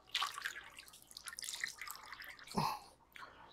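Water dripping and splashing as freshly churned butter is squeezed by hand, soft irregular drips and wet squelches, quiet and close.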